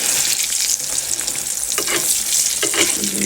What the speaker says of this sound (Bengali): চলে আসলাম ডিম ভাজতে